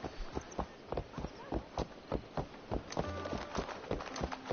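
Horse hooves clopping in Assassin's Creed Valhalla, a steady rhythm of close, distinct hoof strikes with some extra clatter and a brief voice in the background.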